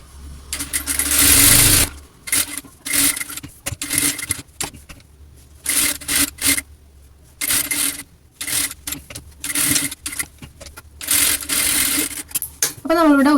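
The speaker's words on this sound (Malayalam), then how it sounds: "അപ്പോൾ ഞാനതൊന്ന് സ്റ്റിച്ച് ചെയ്തെടുക്കുന്നുണ്ട്." A sewing machine stitches fabric for a child's silk pavada skirt in repeated bursts of rapid mechanical whirring, starting and stopping every second or two, loud and close.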